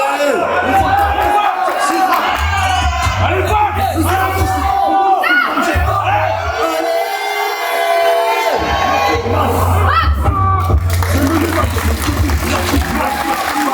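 Crowd at a pull-up competition cheering, whooping and shouting loudly and continuously, with bursts of yelling rising and falling over heavy low music.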